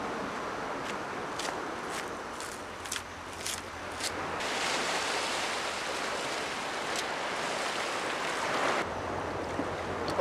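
Sea waves wash onto a remote beach, soft and distant. A hiss of surf rises and falls steadily, with faint scraping and footstep-like taps early on. No one speaks.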